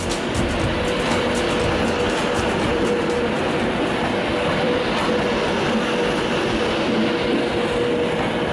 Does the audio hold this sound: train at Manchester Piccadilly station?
yes